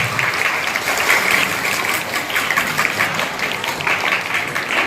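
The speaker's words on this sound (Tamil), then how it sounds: "எல்லாம் ஜோரா கைத்தட்டுங்க பாப்போம்" At a church Christmas programme for catechism students, the audience gives loud, sustained applause, a thick even roar of many hands clapping with no clear voices.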